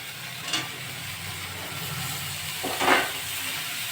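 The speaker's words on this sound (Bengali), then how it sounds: "এবার আমি ঝিঙেগুলো দিয়ে দেবো।" Steady frying sizzle as ridge gourd goes into a hot pan of fried ginger and garlic, with a couple of louder hissing surges and scraping stirs over a constant crackle, no voices.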